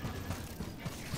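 Mechanical clicking and ratcheting of a weapon being reloaded in the co-op shooter Helldivers 2, a quiet, regular series of soft clicks and metallic creaks lasting about a second.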